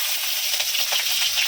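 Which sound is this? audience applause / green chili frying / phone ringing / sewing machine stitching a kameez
green chili frying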